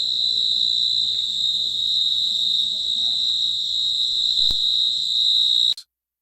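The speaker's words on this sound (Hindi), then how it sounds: "बस हल्की हवा के झोंके और झींगुरों की आवाज" A steady, high cricket trill runs continuously with a faint low rumble of light wind beneath, then cuts off abruptly near the end.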